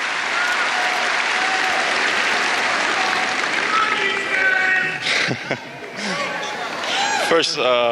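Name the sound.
applause in Rod Laver Arena at Australian Open final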